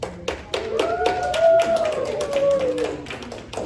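Scattered hand claps at a pickleball club annual general meeting, a few sharp taps rather than full applause, with a sustained tonal hum and some voices running underneath.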